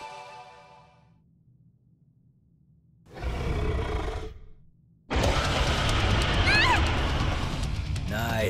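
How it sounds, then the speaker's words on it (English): A monster's roar in the video game Ys IX: Monstrum Nox, a loud, broad rumbling burst that rises, holds for about two seconds and fades, then a second, longer and louder roar that carries on to the end, after speech at the start. "I've heard this roar before."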